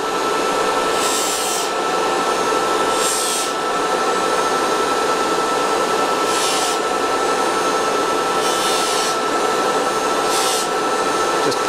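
Polishing mop buffing a platinum ring, a loud steady whirring hum from the spinning buffer with a constant rubbing hiss and several brief brighter swells as the ring is pressed to the mop, no talking.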